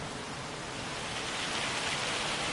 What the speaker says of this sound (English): Oh, I heard it raining.